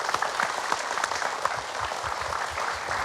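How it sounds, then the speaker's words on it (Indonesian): Studio audience applause on a television religious talk show, a dense, steady wash of many hands clapping at close range throughout, with no talking over it. "boleh berikan tepuk tangan untuk Ustadz Danu."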